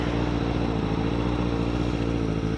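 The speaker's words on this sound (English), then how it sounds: "There's another guy with a motorcycle over there." A motorcycle engine drones loudly and steadily, close by, a continuous rumbling roar with no pauses.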